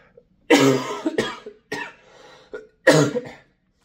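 A person coughs several times in harsh bursts, a heavy cough followed by shorter ones and a final strong cough, close and alone.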